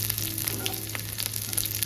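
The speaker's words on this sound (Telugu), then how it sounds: "ఇప్పుడు ఈ ఉల్లిగడ్డ, ఈ ఒట్టిమిరపకాయలు, కరివేపాకు బాగా ఫ్రై అయింది." Onions, dry chillies and curry leaves fry in a pan with a steady, crackling sizzle and occasional small pops, close up and uninterrupted.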